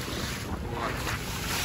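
Motor boat cruising slowly off Cape Tarkhankut in Crimea, a steady low engine rumble blended with wind buffeting the microphone and water washing past the hull.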